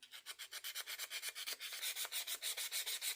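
Old rusty tools are scrubbed by hand with white vinegar, producing a quick, even series of about twenty rasping back-and-forth strokes, close and fairly quiet, with no voices.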